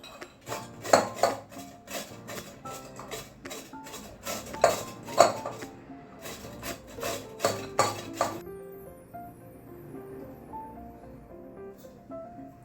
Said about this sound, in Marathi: आता आपण किसणीच्या साहाय्याने त्याला किसून घेऊयात